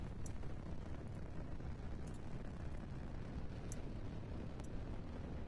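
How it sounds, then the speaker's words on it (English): A rocket launch in Kerbal Space Program, driven by an octopus engine: a dense, continuous low roar with steady rumbling noise throughout, loud and unbroken, with faint brief high ticks on top. "You can hear that octopus engine roaring, ripping the air."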